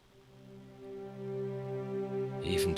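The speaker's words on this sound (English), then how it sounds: "the string ensemble long notes with the sordino," A muted string ensemble, bowed with sordino from the Symphobia sample library, holds a long, soft, sustained chord that swells gently. A brief brighter burst comes in near the end.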